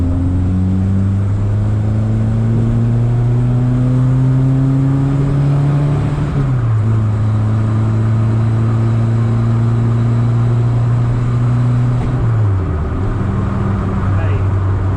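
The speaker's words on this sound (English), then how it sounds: "Little downshift." An old Ford car's engine revs loudly and steadily, drops in pitch at two downshifts, then climbs again, heard close from inside the car with a little talk over it.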